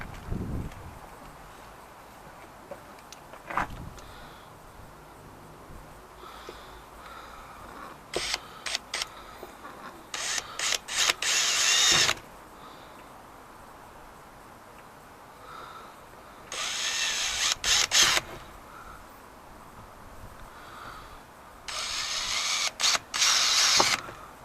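A power drill whirs in several short bursts separated by pauses and small clicks, grinding holes through stainless steel close by, with no talk.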